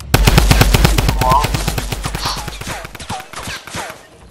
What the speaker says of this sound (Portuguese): Continua atirando, continua atirando.